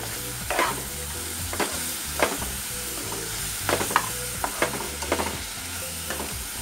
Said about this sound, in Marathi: चांगलं नरम फ्राय करून घ्यायचं।